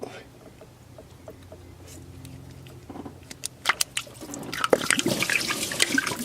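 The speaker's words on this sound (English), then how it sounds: "I could already see the water pouring." Coolant gushing and splashing from the water neck of a Dodge Challenger or Charger during a thermostat swap, starting as a faint trickle and building into a loud, spattering pour near the end.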